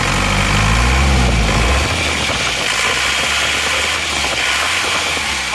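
Rebuilt Isuzu Panther diesel engine with new liners, pistons and rings idling warm above 80 degrees: a loud, steady close-up rumble with continuous mechanical clatter, first deeper, then settling to an even idle.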